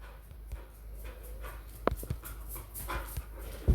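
A dog pants and whimpers softly indoors, with a few brief sharp sounds and a louder bump near the end over a low steady background.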